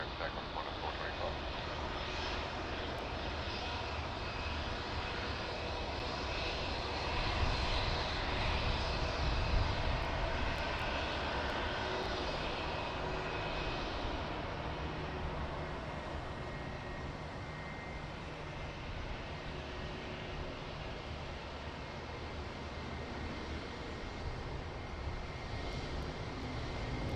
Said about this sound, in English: Qantas 425, runway 16 right, clear to takeoff.